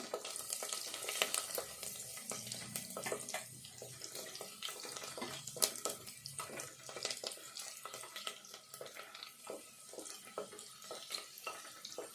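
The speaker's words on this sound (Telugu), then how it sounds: "జీలకర్ర ఇవన్నీ కొంచెం దూరగా వేగాలి" Cumin seeds with mustard seeds fry in a pan for a bottle gourd and moong dal tempering, a faint crackling sizzle with small scattered pops and stirring throughout.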